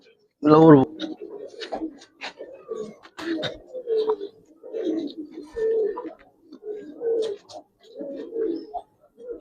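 A Giribaz pigeon, a Bangladeshi tumbler breed, gives a series of soft, low cooing calls in short repeated bursts, close by, alongside someone talking.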